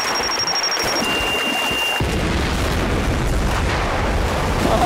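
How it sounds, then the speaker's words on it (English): A loud explosion erupts in a Bollywood comedy film scene, a sudden deep boom that sets off a sustained roaring, crackling rumble lasting several seconds. "That was a hell of an explosive."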